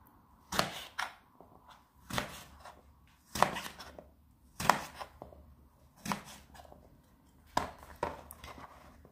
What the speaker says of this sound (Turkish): Patlıcanı bu şekilde dörde bölüyorum.